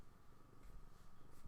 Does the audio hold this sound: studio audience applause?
no